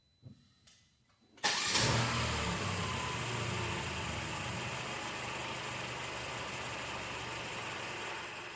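A 2018 Mercedes-Benz GLC 300 with a cold-start fault cranks briefly after a couple of faint clicks, then catches and settles into a steady, close idle.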